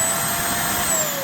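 A JPHYLL bed and mattress vacuum cleaner runs with a loud, steady motor whine and rushing suction, its brush spinning only briefly, with no voices over the constant drone.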